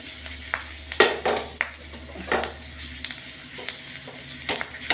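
Green chillies frying in a little oil in a pan over a full flame for a Gujarati tadka, giving a soft steady sizzle with occasional clinks and stirring scrapes, close and moderately quiet, with no talking.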